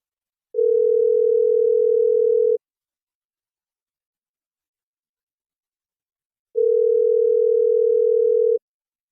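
Telephone ringback tone while calling a phone: two long, steady, pure beeps about two seconds each, separated by several seconds of silence, clean and loud.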